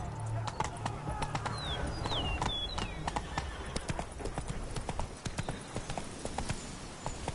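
Rapid hoofbeats of the horse Roach galloping in a video game, a quick, even clip-clop rhythm running continuously at moderate level, with faint bird chirps above and a brief voice.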